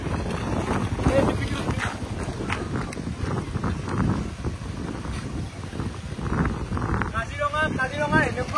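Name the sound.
strong wind at Kaziranga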